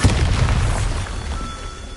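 A Bombarda blasting spell explodes in Hogwarts Legacy, one loud boom at the start that decays into a rumbling fade over about two seconds.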